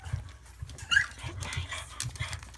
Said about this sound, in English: Lhasa puppies.